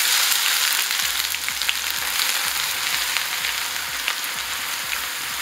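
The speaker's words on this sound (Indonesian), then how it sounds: "Ini kita tumis bumbunya sampai benar-benar wangi." Spice paste sautés in hot oil for coto Makassar, a dense, steady hiss of sizzling with rhythmic stirring scrapes from a utensil in the pan, close and fairly loud with no talking.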